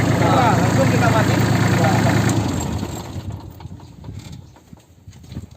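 A tractor engine runs loud and steady with a dense mechanical clatter, then drops away after about three seconds as it is shut off, leaving a faint residual rumble.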